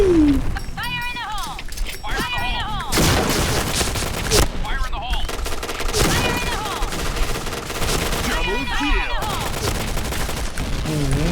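Rapid gunfire in the shooter Point Blank, dense loud volleys of shots and bursts across the whole stretch, with a voice talking over the shooting.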